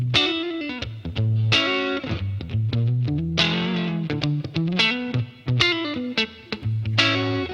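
An electric guitar played through the DSP of a wireless guitar transmitter rings out distorted chords and single notes with effects, loud and close, heard alone.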